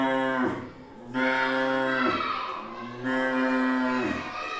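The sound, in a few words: boy imitating a cow's moo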